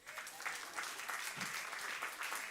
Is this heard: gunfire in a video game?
no